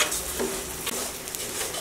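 Raw rice grains for morog polao fry in a pan, a continuous close sizzle with a dry rustle and scrape as they are stirred, briefly and with no talk.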